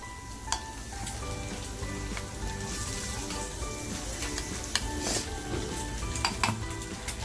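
A metal spoon scrapes and clinks against a dish while scooping ground chilli masala for a Malvani surmai fish curry, with a few sharp taps over constant busy kitchen background noise.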